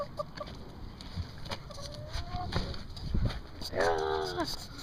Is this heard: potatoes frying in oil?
no